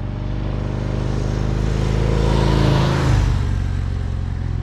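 A Harley-Davidson Fat Bob 114 engine runs steadily and loud up close, its low rumble swelling slightly as the revs rise and dip again.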